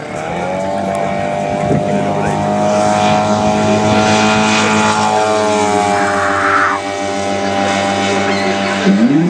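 A giant RC model Zlín Z-526 AFS-V aerobatic plane with a six-cylinder inline ZDZ engine drones loudly and steadily in flight, a continuous buzzing roar that shifts slightly in pitch as it passes.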